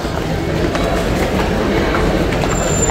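MRT train at a Singapore station, a loud steady rumble of wheels and carriages close by, with a faint high squeal near the end.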